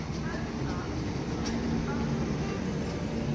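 A train at Paignton railway station, a steady low rumbling engine drone with a constant hum, close and even throughout, with a brief faint clank midway.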